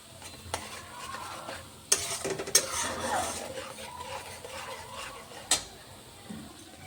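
A spoon stirs food in a cooking pot for a dhoka daalna dish, with soft scraping and low sizzling, sharp metallic clinks of utensil against the pot at a few moments.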